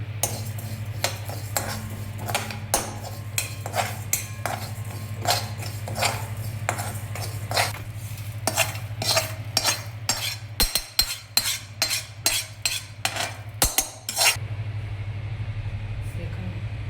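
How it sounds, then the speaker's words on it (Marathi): Spices and sesame seeds roast in a pan over a wood-fired stove for mutton curry: sharp metallic taps and scrapes of a spoon come in bursts, quickening near the end, over a low steady hum. "आणि त्याच्यात मी ही तीळ घेतलेली 1 चमचा, ती पण त्याच्यात भाजून घ्यायची."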